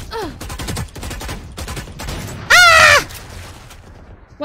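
Rifle fire from a Phantom in Valorant gameplay, a rapid burst of shots amid game sounds, with a bright electronic tone rising partway through and a faint voice under it.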